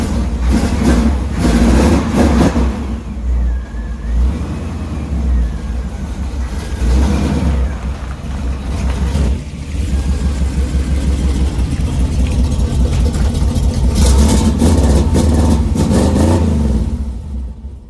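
A Chevrolet Chevelle engine revving and running, a loud, rough, low rumble that rises and falls in waves across the whole stretch, with no clear talk over it.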